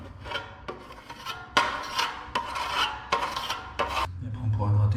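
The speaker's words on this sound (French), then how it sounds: "on répare avec du mastic les trous qu'il y a déjà dans le sol" A putty knife scrapes and smears filler into holes in a PVC vinyl floor, loud close rasping strokes repeated in a steady back-and-forth rhythm, with no speech.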